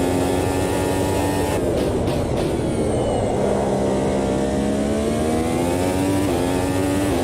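A DTM 2016 touring race car engine in the RaceRoom racing game at Imola revs loudly and continuously, its harmonic pitch sliding down and hanging with a notch in the revs before bogging down, with no talking.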